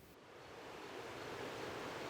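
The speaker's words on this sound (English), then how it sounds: "It's flowing water. It's rushing." Steady rushing of flowing water in a canyon creek near Mount Diablo at the end of a rainy season, a broad, continuous wash that swells slightly and plays alone with no voices.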